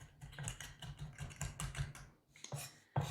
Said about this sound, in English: stand there and watch me cut up these herbs for a minute.